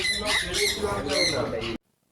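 Birds in an ashram's bird enclosure give loud, harsh squawks in quick succession for under two seconds, close by, then cut off abruptly into silence.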